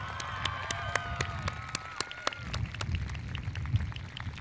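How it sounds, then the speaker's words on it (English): Audience applause at a Mountain Home High School graduation ceremony, a steady wash of clapping with scattered sharper claps and some cheering, moderately distant and sustained throughout. "Give her a round of applause."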